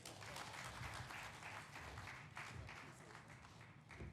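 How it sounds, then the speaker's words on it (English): Conference audience applauding a keynote speaker at an annual SDG conference in Uganda: dense, sustained clapping from a large crowd that fills the room steadily and evenly throughout. "A round of applause again."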